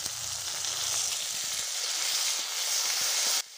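Tomatoes and onions fry in mustard oil in a kadai with a loud, steady hiss and sizzle and a few faint stirring knocks. The sound cuts off abruptly at the end.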